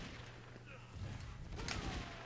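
Gunfire in a Mortal Kombat fight, a short burst of rapid shots that swells in the second half of the moment, heard close and under a speaking voice.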